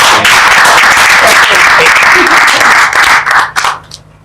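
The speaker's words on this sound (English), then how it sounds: "let's clap for this place" Loud audience applause fills a gathering of young people discussing relationships, dense clapping running steadily before tapering off near the end, with voices mixed in.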